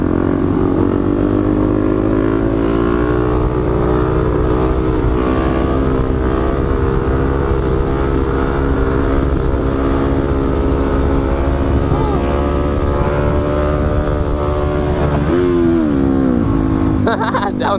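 A motorcycle engine roars loudly and continuously during an Atlanta street-riding session, revving hard with pitch shifts that suggest downshifting, while voices call out over the noise.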